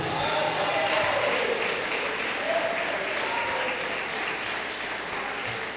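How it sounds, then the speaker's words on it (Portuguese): A church congregation applauds during a service, sustained dense clapping filling the room steadily for several seconds without pause. "Pode dar uma salva de palmas para Jesus."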